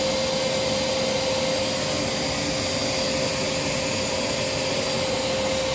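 A Riccar R30D vacuum cleaner runs steadily on its single motor, a loud, even whine and rush of air holding unchanged from start to finish, with no talking.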